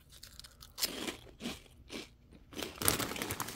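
Crunchy Funyuns onion flavored rings being chewed close up, with several loud crisp crunching bites in an uneven rhythm and no talking.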